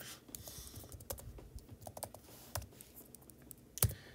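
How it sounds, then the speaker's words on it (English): Typing on a keyboard, soft irregular key clicks in short bursts at close range and low volume, ending with one sharper louder tap. "we'll type in something random"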